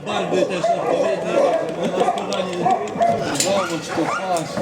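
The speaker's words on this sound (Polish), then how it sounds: "A tu takie mniejsze pieski, ale jest tak głośno" Several small dogs bark and yip loudly and continuously at close range, with whimpers mixed in, while people talk over the noise.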